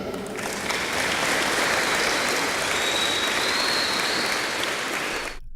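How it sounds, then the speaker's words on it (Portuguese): Steady, loud applause from an audience at a school sports event, filling the whole stretch evenly before cutting off abruptly at the end. "grande aplauso para os escutarem"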